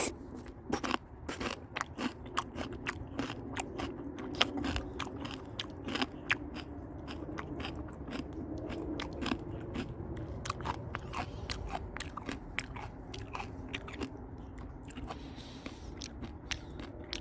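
Someone bites into and chews crunchy Chinese green melon close to the microphone, a long run of sharp wet crunches and snaps with no talking.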